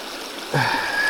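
Paddy's River, running lower than normal, flows and splashes up close. After a brief hush, a sudden burst of rushing, bubbling water enters and holds steady to the end.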